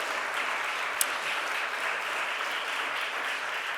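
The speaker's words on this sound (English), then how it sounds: "The round of applause for Rich and Amanda and the mayor," Steady round of applause from the crowd at a mayor's press conference for a domestic workers bill signing, sustained dense clapping at even volume with one sharp clap standing out.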